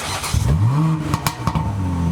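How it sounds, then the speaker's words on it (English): A Morgan sports car pulls away at a car show, its engine revving up through rising pitch sweeps, loud and close, then settling into a steady drone as it drives off. "the Morgan is off on a drive"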